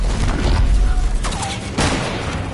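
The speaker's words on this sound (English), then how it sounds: "We're getting sniped." Sniper gunfire in Fortnite rings out as loud, booming shots and a dense burst of gun noise, close and heavy throughout the short stretch.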